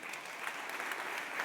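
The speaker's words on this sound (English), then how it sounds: "If you could give him a round of applause." An audience at a two-year anniversary gathering claps steadily and evenly throughout, a dense wash of many hands at moderate, somewhat distant level, with no voices standing out.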